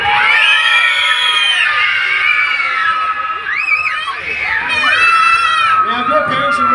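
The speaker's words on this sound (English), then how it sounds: "Let's hear a scream!" A crowd of children screams and cheers loudly and continuously at a monster truck show in Mackay, with shrill, overlapping voices rising and falling throughout.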